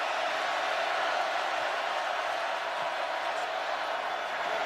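Steady, broad roar of a stadium crowd at a college football game between West Virginia and Oklahoma, a constant wash of massed voices running unbroken throughout.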